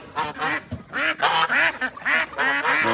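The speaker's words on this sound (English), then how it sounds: "we'll let the chickens and the ducks and the goose out" Farm ducks and a goose being let out of their pen in the morning, a close, busy run of repeated loud quacks and honks in quick uneven bursts, with no talking.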